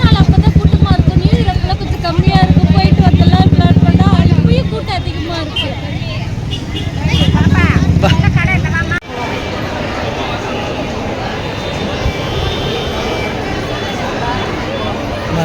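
Busy road traffic on a crowded New Year celebration night, loud engine rumble and vehicle noise with a general crowd hubbub, under near voices of people talking throughout.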